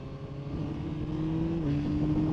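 Yamaha MT-09 motorcycle with the Y-AMT automatic gearbox cruising on a ride, a steady engine drone with a rising tone holding evenly throughout at moderate loudness.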